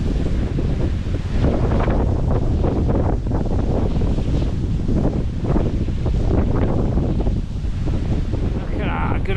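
Wind blows hard while riding a Specialized Creo e-bike in the countryside, with loud, gusty rumbling buffeting the microphone continuously from start to finish.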